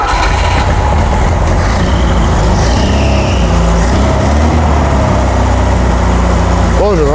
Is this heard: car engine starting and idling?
yes